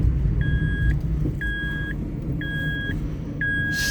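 An auction car with six months of MOT left drives through a few gears, its engine rumbling low and steady inside the cabin while a chime beeps regularly four times overhead.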